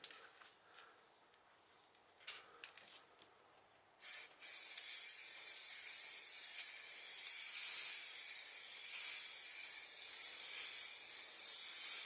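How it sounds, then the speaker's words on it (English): Spray nozzle hissing steadily as it sprays down onto a roof, starting abruptly after a few seconds of quiet rustling and continuing loud and unbroken to the end. "the nozzle stops working because I'm spraying down like that and not up across like that"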